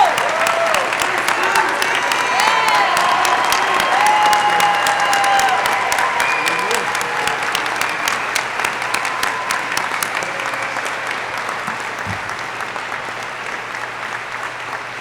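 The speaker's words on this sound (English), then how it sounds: "Please join me in a round of applause for these outstanding warrant officers." Sustained audience applause at a warrant officer candidate school graduation ceremony, a loud, dense roar of clapping from a large crowd that slowly eases over fifteen seconds, with scattered cheers and voices underneath.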